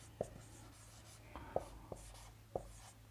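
Pen strokes scratch out a maths probability solution on paper, close and quiet, in a few brief, sharp taps and scrapes over a low background hum.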